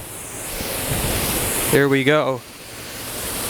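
A winter waterfall rushes as a steady broadband roar through the whole stretch, with a brief spoken exclamation near the middle.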